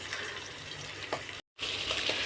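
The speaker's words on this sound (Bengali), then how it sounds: "যে মাছ ভাজা হচ্ছে" Fish fries in a pan with a steady, fairly quiet sizzling hiss, broken by a brief gap, then resuming slightly louder with faint crackles.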